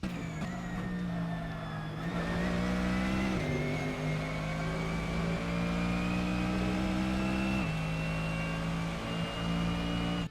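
A GT3 race car engine in Assetto Corsa on the Montreal track roars steadily and close, with several sharp gear changes breaking the pitch and rising revs between shifts.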